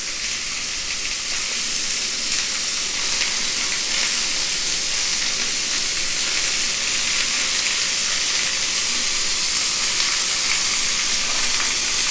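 Ribeye steak simmering in a pan with garlic and onion gives a loud, steady hiss of sizzling and steam that holds evenly the whole time with no talking.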